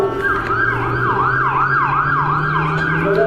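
An ambulance siren wails in a steady, repeating yelp cycle, loud and close, sounding continuously over a low vehicle hum with no talk over it.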